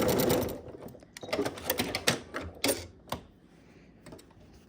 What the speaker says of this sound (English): So I'm only going to take a few more stitches. And we're going to back stitch like we did on the other side.